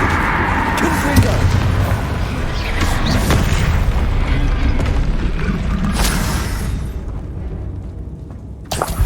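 Confringo blasting curses go off in the Hogwarts Legacy video game as a dense, loud stretch of booming explosions and battle noise, with a voice calling out under the blasts before the din fades.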